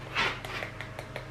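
A puppy pants close by in quick, soft, rhythmic breaths over a low steady hum, with a brief louder huff at the start.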